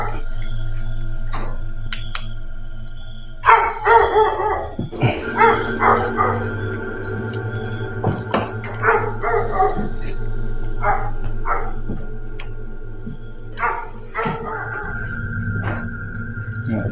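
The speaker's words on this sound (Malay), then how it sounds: "Anjing sangat menyala" A dog barks fiercely at a house in Selangor, firing off repeated sharp bursts in irregular clusters, fairly close and loud over a low steady background hum.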